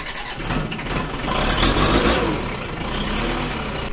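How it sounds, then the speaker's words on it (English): A vehicle engine cold-starts on a chilly farm morning, cranking and catching into a loud, rough, rising roar that settles into a steady rumble nearby. "Gotta love a cold start on a chilly morning."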